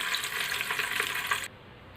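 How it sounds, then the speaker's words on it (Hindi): Chicken pieces frying in a pan for Saudi chicken mandi, heard as a close, dense sizzle that cuts off abruptly partway through, leaving a faint background hum. "इसी तरह से बाकी चिकन को भी हम फ्राई कर लेंगे।"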